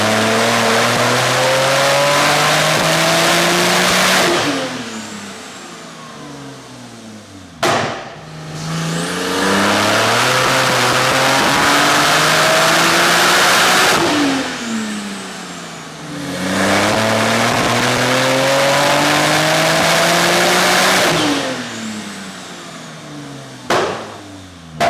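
A Porsche 992 Turbo tuned to about 1100 bhp revs hard on a dyno, climbing through the gears in loud, rising sweeps with sharp shift cracks, then easing off, over three long pulls.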